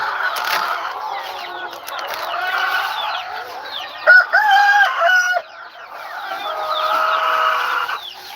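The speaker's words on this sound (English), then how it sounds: "Hopefully these other chicks will go inside now." Chickens at a feeding area on a small farm in Aklan cluck steadily and loudly throughout, with a rooster crowing up close in the middle.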